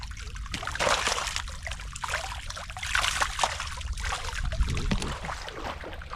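Fish caught in a trap basket in the Krishna River thrash and splash in the water: continuous close, busy splashing and trickling with irregular bursts throughout, no talk.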